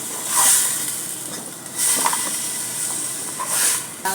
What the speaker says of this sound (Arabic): هاي شويه انا دا احمسها من اللحم